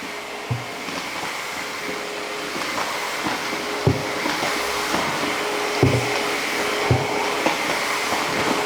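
A Shark Steam Pickup 3-in-1 steam mop runs over a floor, giving a steady whirring hiss with occasional soft knocks as it is pushed back and forth, alone without talk.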